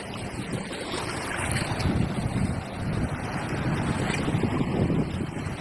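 Sea waves rolled up by the northeast monsoon wind wash and surge in a continuous rough roar along a coastal village shore near a fishing boat, with heavy wind buffeting the microphone and nobody speaking.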